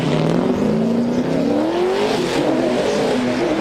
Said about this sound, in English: look at Fredok throwing that car around like nothing